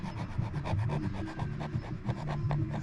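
Rhythmic rasping strokes of a scraper working bad spots off a primed truck cab's bodywork, close and steady, repeating roughly every fraction of a second with no talk over it.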